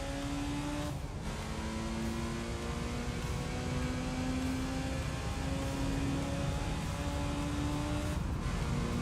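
A race car engine in Gran Turismo 3 holds a loud, steady high-revving drone through the whole stretch, its pitch climbing gradually, with brief dips as gears shift.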